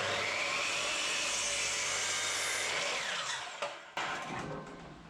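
A power saw cuts through an 80-year-old piece of recycled timber, a loud sustained whining buzz that drops in pitch as the blade bites, then briefly stalls and resumes near the end, with no voices.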